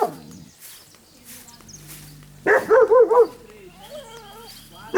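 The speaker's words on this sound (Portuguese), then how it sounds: "se procurar cachorro aqui tem mais cachorro do que gente" Several dogs bark and yelp in a rural village in Floresta Branca, Mato Grosso do Sul, with a loud close burst of barks and fainter whines and distant barking around it.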